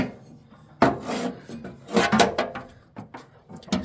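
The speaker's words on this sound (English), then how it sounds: "just like that, I got my rotor cap off" Distributor cap being worked free from a 1973 VW Beetle engine: a few close scraping, rasping and clicking handling noises in short bursts, with no talk.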